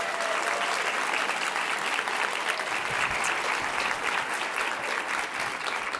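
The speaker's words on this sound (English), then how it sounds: "Give him a round of applause." Steady, dense applause from a conference audience for a guest speaker at a food and agriculture policy summit, loud and continuous throughout with no talk over it.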